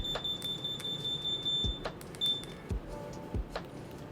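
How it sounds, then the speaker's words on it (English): A yacht control system's receiver gives a steady high electronic power-up tone through most of the clip, then a short repeat of it, with a few soft clicks and thumps underneath. "you've got the beeping noise coming from the receiver letting you know it's looking to power up"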